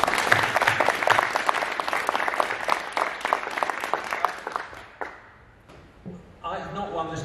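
An audience applauds steadily at a local election mayoral declaration in a hall. The clapping fades after about five seconds, and a voice then starts to speak.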